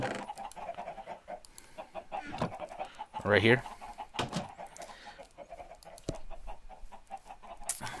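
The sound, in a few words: chickens clucking in the video game Minecraft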